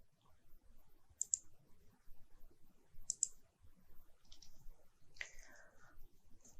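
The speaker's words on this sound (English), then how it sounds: "Then I click here on OK." A computer mouse clicks in design software, quick double clicks at intervals, crisp and close against a quiet background with no talking.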